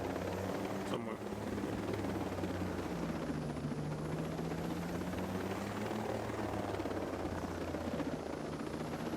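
A video-game helicopter in Ghost Recon Breakpoint comes in to land, its rotor drone loud and steady with a shifting engine whine, continuous throughout with a brief thud near the start.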